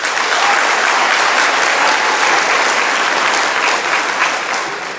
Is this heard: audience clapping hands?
yes